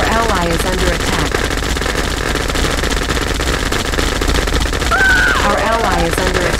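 Automatic gunfire rattles continuously through a skirmish in the real-time strategy game Red Alert 2, with dense bursts layered over game music and announcer voice lines throughout.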